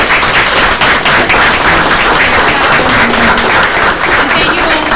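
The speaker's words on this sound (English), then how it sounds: "give you a round of applause" Applause from an audience for students standing at an evening event, a dense, steady wash of clapping that stays loud and even throughout with no pauses.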